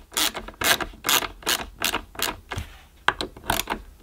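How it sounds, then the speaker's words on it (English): Screws are tightened by hand on the handle of a Kärcher Ranger by Sebo upright vacuum cleaner. About nine close, rhythmic ratcheting clicks and scrapes sound in steady succession. "tighten up both screws"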